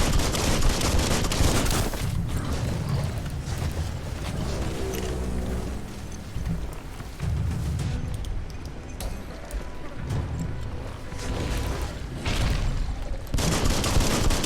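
Poison shots firing in the action game Biomutant come as bursts of gunfire and booming impacts over dense, loud game music and effects, with no voices.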